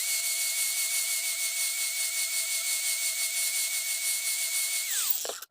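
A lawn mower blade is sharpened with a high-speed tool, making a steady, close, high-pitched grinding whine that holds evenly, then drops in pitch and cuts off at the end.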